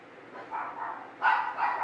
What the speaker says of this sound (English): Oh, those dogs are a pest.